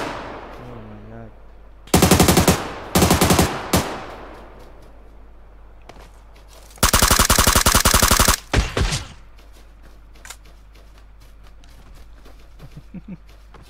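PUBG Lite gunfire on the Sanhok map rips out in loud, rapid automatic bursts: two short volleys, then a longer sustained stream of shots, with quieter game ambience and faint voice fragments between them.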